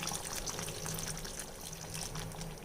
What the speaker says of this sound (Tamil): கொஞ்சம் தண்ணி விட்டுக்கலாங்க.